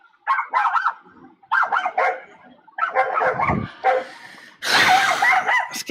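A dog barks close and loud in short bursts of two or three yips, repeated several times with brief pauses, ending in a harsher, noisier bark.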